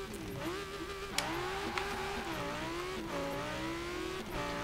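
A sports car engine launching hard from a standstill, revs climbing and dropping through quick gear changes, with sharp pops between rises, loud and close throughout.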